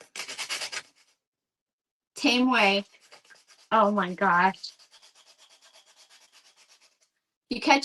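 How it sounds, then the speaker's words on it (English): Bursts of rough rubbing from sanding the edges of a craft piece, separated by pauses, with someone talking and laughing between the passes. "Let me go ahead and sand the edges."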